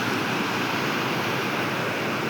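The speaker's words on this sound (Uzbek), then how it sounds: "Tabiiy suvni tovushi bu." Natural waterfall of flowing water, a dense, steady, loud rushing roar that continues unbroken, with no voices.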